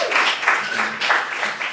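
An audience at a stand-up comedy show breaks into clapping, a short, close burst of hand claps that swells and ebbs over under two seconds.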